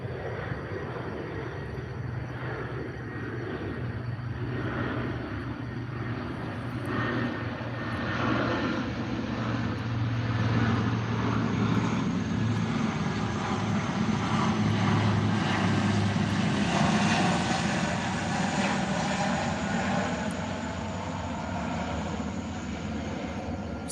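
A propeller aircraft comes in to land at Little Rock, its engine drone loud and continuous throughout with a slowly shifting pitch as it passes, with no voices over it.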